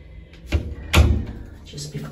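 A door opens with a soft knock followed by a sharper clunk of the latch and frame, set against indoor background noise.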